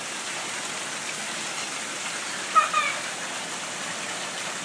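Steady rain falling outdoors, a constant soft hiss throughout, with a brief louder splash or thump near the middle and no talking.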